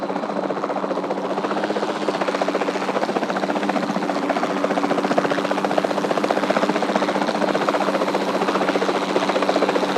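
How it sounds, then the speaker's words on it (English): A capture team helicopter in the video game Jurassic World Evolution 2 drones steadily and loudly throughout, its rotor buzz and engine hum holding a constant, even level from start to finish. "Then the sensible thing is to take a capture team helicopter."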